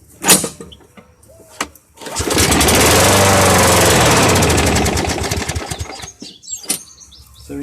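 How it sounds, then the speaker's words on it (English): An old Sears push lawn mower engine runs loud and steady for several seconds after a brief start attempt, its droning chug close by, fading slightly before cutting out near the end, with chirping birds in the background. "I'm gonna actually do that one more time here and listen to that engine."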